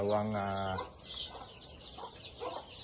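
Special gamecock roosters and chickens penned inside a barn: a loud crow opens, then a few softer clucks and scattered calls follow nearby.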